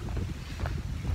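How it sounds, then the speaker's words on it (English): Steady wind rushing and buffeting against the microphone on a bamboo-lined trek in western Honshu, Japan, a low continuous roar with a few faint rustles on top. "It's also gotten quite windy."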